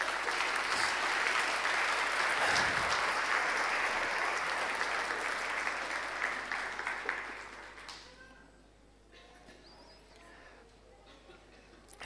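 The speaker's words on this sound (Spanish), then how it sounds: "Demos un aplauso a Jesús por eso." A church congregation applauds at a Spanish-language service, a loud sustained burst of clapping that fades out after several seconds into quiet room tone.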